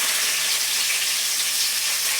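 Mustard seeds crackling in hot butter, a dense, bright, steady sizzle with fine popping heard close up and alone, no voices.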